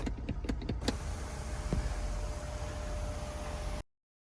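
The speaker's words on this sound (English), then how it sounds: "So to open the sunroof, obviously the control is right here." Power sunroof opening on a 2016 Ford Edge Sport: a few quick clicks of the overhead control, then a steady, quiet motor hum as the panel slides back inside the cabin, stopping abruptly.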